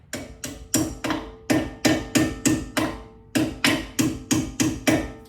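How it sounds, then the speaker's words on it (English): Steady metallic hammer strikes on an Aston Martin Vantage front brake pad pin, about sixteen blows in a regular rhythm, close and ringing briefly after each hit. "now I've got it in, I can hammer it in from the back"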